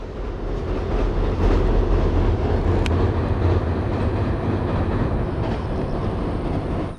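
A train rumbles steadily past at close range on a bridge over a river in the Tokyo suburbs, with rhythmic rolling wheels and metallic rattling, loud and continuous throughout.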